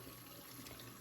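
A fluffy makeup brush rinsed tip-first under a running tap, a soft steady stream of water splashing into a sink, faint and continuous.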